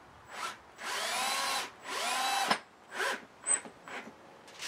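A power drill drives long screws during assembly of a Fire Brick D105 pizza oven kit, in five or six short whining bursts of varying length with brief pauses between them, close and clear.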